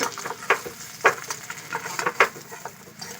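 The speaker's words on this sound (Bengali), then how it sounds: "লাল লাল করে ভালো করে খুব সুন্দর করে ভেজে নেব" Kakrol (spiny gourd) frying in a pan until reddish: soft sizzling with irregular scrapes and knocks of a spatula turning the pieces, close and moderately quiet.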